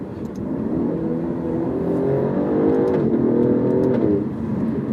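A 2017 Alfa Romeo Giulia sports sedan's engine revs up and drops back repeatedly as it is downshifted in manual mode, a steady close engine drone with rising and falling pitch and no talk.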